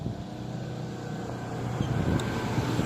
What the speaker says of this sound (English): A truck is passing behind me.